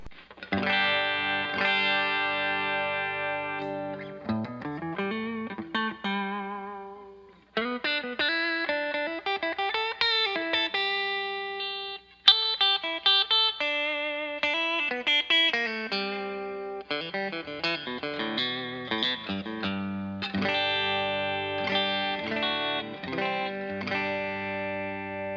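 Electric guitar run through a Valeton Comprince vintage compressor pedal, with a humbucker and single coil combined in the in-between pickup position. Clean, sustained chords and melodic runs ring evenly in separate phrases with short gaps between them.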